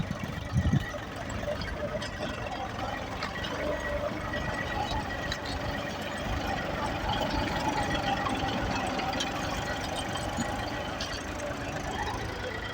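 A Massey 1035 tractor engine runs steadily at work in a field, a continuous mid-pitched knocking drone with a faint squeal, while a person talks over it.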